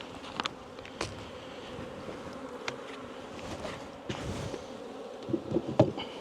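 Honeybees buzz around a freshly set-up hive box fitted with ten frames, a continuous close-up insect hum with scattered louder passes as individual bees fly near, amid faint outdoor background noise.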